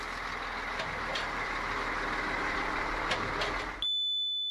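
A truck rolls slowly through a radiation detection portal at no more than 10 km/h, its engine a steady low rumble with faint clicks and a beeping tone, then it stops short and a thin electronic tone remains.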